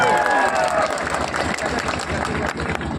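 A crowd at a political gathering applauds to welcome Delhi cabinet minister Gopal Rai, dense steady clapping filling the space with some background voices underneath.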